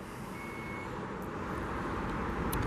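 A 2019 Chrysler Pacifica Touring L's power trunk opens with a thin, steady warning beep over a low, constant hum, faint and close by with no one talking.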